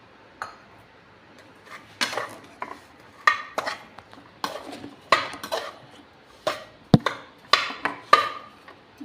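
A spoon scrapes and clinks against a pan while mixing chhena into semolina for barfi, irregular close metallic taps and scrapes in quick succession with no voices.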